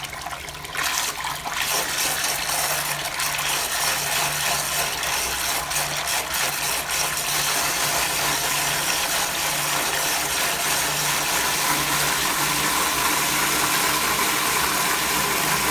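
A micro brushless DC water pump running submerged in a bucket of water gives a continuous close watery churning and gurgling with a steady low hum beneath, after a brief handling clatter at the start.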